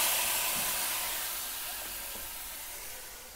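Bengali home cooking: ground spice paste tipped into hot oil where cumin seeds are already frying. A steady hiss fades slowly over a few seconds, with no voices.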